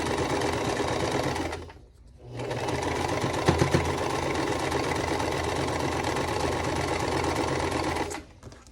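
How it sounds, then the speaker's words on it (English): A sewing machine with a freshly changed needle and just oiled runs steadily at close range with a faint, slight clunk, pausing briefly near the start and easing off at the end. "I don't know why that's clunking a little bit because I just changed that needle"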